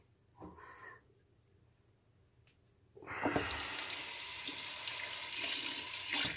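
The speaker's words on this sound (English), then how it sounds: "There's no lather whatsoever on that blade. Comes right off when you rinse it." Running tap water rinsing a razor blade, a steady loud splashing stream starting midway after a quieter stretch with brief soft knocks.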